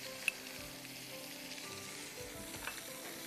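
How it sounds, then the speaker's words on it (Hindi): Chopped onion and garlic sautéing in a pan give a low steady sizzle with a few faint clinks, quiet and close, with no voices. "प्याज और चॉप किया हुआ 3-4 जवे लहसुन के आप मीनवाइल यहाँ सौटे करिए"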